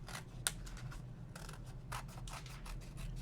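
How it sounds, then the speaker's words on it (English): Big scissors snip through paper to cut out a hand shape, producing a series of crisp, close cuts and rustling scrapes at an irregular pace with no talking. "And I'm using my big scissors."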